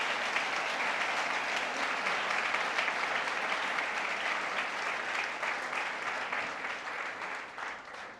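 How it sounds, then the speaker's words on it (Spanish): A church congregation applauds during a Spanish-language sermon, steady broadband clapping from many hands that holds for several seconds and slowly tapers off. "Le dan un aplauso a nuestro Señor."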